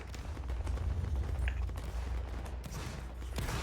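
Gunfire in a team game match rattles in a dense, steady stream throughout, with overlapping bursts of shots at moderate distance and no clear pauses.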